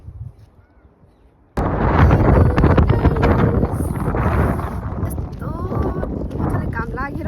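Wind gusting hard across the microphone in Richmond Park, a loud, rough rumble that starts abruptly and roars on steadily, with people talking through it.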